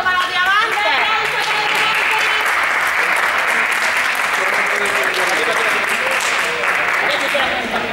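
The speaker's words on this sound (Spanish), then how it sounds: "Un aplauso para los diamantes" A crowd claps loudly and continuously at a gathering, full sustained applause with voices mixed in beneath it.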